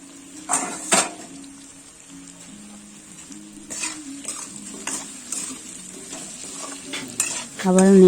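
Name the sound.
stirring fish head and cabbage curry in a pan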